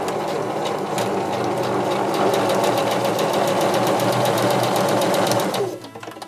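A domestic sewing machine runs a short straight stitch, its needle chattering in a fast, even rapid-fire rhythm for several seconds before stopping abruptly.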